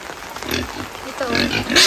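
A pig in a long pigpen grunts and snorts in short bursts close by, with a louder squeal near the end.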